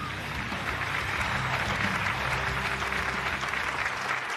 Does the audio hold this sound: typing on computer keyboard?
no